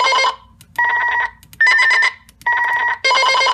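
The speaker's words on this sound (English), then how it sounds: "You can change the tones of the messaging, so it's got different ringtones." Messaging ringtone from a Wouxun KG-D901 DMR handheld radio, loud, close bursts of bright electronic chiming tones repeating in a regular on-off pattern with short silent gaps, no voices.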